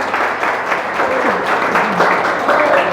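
A church congregation applauds in a steady, dense patter of clapping, with a voice carrying over it and some tonal sounds mixed in throughout.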